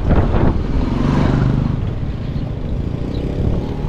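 A water well pump engine runs steadily, a loud continuous rumbling motor drone with a faint rattle, close by and without talk.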